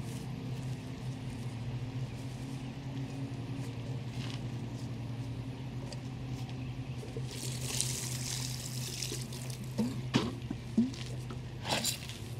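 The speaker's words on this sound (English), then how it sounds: "and give them some water." Water is poured onto freshly transplanted strawberry runners in a home garden bed, making a soft, steady trickle and splash against the soil that grows louder toward the end, with light background noise.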